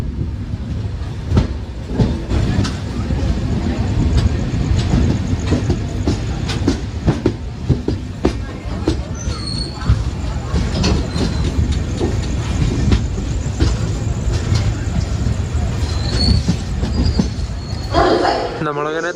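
A Kannur–Ernakulam Intercity train running on rails, heard from inside a crowded general-class coach as a loud, continuous rumble with rhythmic clickety-clack and occasional wheel squeals.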